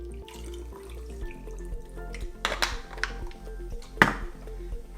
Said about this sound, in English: And then let's top it up with soda.